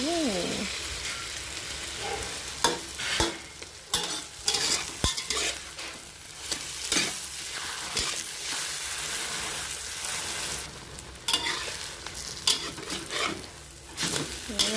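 Eggs sizzle steadily in a hot pan, with a spatula repeatedly scraping and stirring against the metal.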